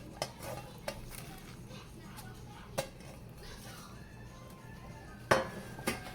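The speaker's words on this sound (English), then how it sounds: "Just go ahead and add my Swiss chard." Swiss chard is stirred into a pot of Haitian beef and vegetable soup, a low simmering bed punctuated by several distinct spoon knocks against the pot.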